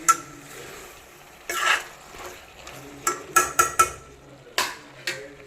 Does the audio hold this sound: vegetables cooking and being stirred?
yes